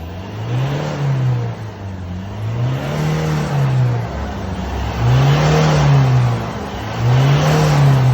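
A Ford 2.2 diesel engine with uneven injector spray after an injector repair revs up and down as the accelerator is pressed. Several rising and falling swells repeat over a steady idle, close and loud.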